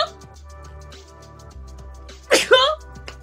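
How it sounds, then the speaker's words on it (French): A person sneezes once, sharp and close, after a brief quiet stretch with faint room hum underneath. "Ah, je vais éternuer."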